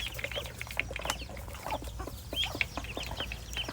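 Several chickens cluck in short, irregular bursts at close range, with occasional higher peeps and soft rustling in the background.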